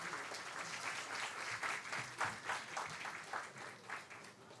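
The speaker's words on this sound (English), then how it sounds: "Please welcome him with a round of applause" An audience applauds to welcome the chief guest at a research day celebration at AIIMS Bhopal: sustained, even clapping from a crowd, fairly faint and distant, with no talking over it.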